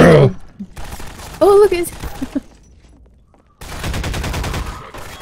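Rapid bursts of automatic gunfire in the video game Half-Life 2, a dense clattering volley near the end after a brief voice and an earlier short burst, loud and close.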